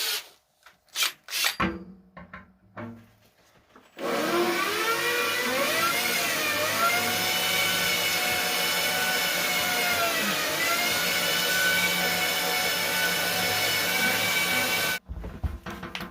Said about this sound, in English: then I'm going to drill, like I said, kind of holes staggered right in here